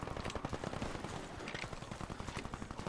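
An HCAR auto fires in the video game Warface: fast, dense automatic bursts run loud and close almost without a break from start to finish.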